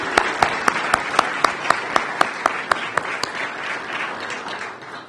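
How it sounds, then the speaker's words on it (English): Audience applause at a bill signing ceremony for a summer youth employment program, a dense wash of clapping with a few sharper claps standing out, steady and fairly close before tapering off toward the end. "Let's give him one more round of applause."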